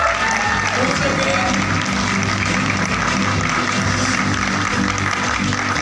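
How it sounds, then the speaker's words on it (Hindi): Applause at an award ceremony, dense continuous clapping from a crowd that stays loud and steady throughout, with faint voices mixed in. "एक बार तालियां हो जाए"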